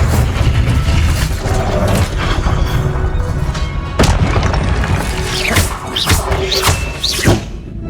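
Confringo and Incendio spell blasts in Hogwarts Legacy burst out one after another as loud booms, thuds and whooshing impacts, dense and continuous over a roaring background.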